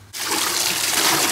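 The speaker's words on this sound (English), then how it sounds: "Right, let's get them some water, shall we?" Water gushes steadily from a container as it is poured out for pigs in their pen, a loud, close, continuous splashing rush that starts abruptly and carries on to the end.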